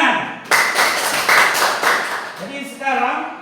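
A classroom of students clapping hands together, a dense burst of applause that starts suddenly and carries on for a few seconds, then a voice speaks as it fades.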